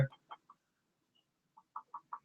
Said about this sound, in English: you guys are referring to the clucking again